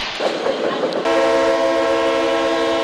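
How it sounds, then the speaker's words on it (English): A fast-moving train passes close, first rumbling and clattering, then its horn blares in a loud, steady multi-tone blast that holds to the end. "it takes a lot of power to run a train"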